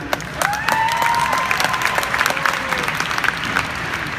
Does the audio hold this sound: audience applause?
yes